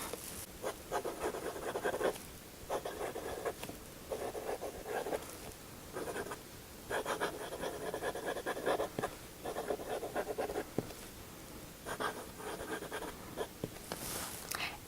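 A fountain pen writes on paper in a quiet, close scratching, with repeated short strokes separated by brief pauses throughout, and no talk.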